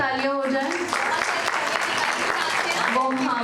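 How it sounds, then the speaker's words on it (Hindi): Audience applause breaks out at a trust's 16th annual day celebration, a steady broadband clatter of many hands filling the hall while a voice talks over it at the start and end. "तो प्लीज जोरदार तालियां हो जाए।"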